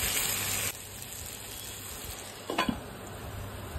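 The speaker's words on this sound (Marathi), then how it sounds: "आता याला सगळं मिक्स करून घेऊया आपला टोमॅटो एकदम सॉफ्ट होईपर्यंत।" Tomato and egg bhurji with cheese stirs in a hot frying pan, a steady close sizzle broken by a couple of brief scraping strokes, with no talking.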